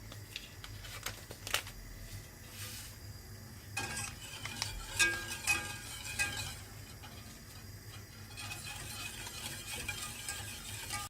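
Custard mixture is stirred in a pot over high heat, soft scraping and clinking of a utensil against the pot in uneven bursts, fairly quiet with a faint background hum.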